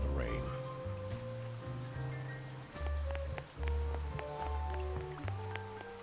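Steady rain falling in the video game Duck Detective, a continuous wash of patter beneath a layered musical score, with no voices in the foreground.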